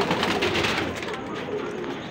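Teddy and Ferozepuri baby pigeons coo steadily throughout, a dense, continuous chorus of soft throaty calls from several birds close by, with faint background voices mixed in.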